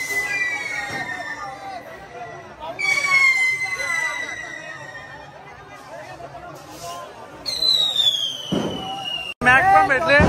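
Firecrackers and fireworks at the Bahiridev idol immersion in Diwale Koliwada whistle upward in repeated rising streaks and end in loud cracking bursts, with crowd chatter beneath.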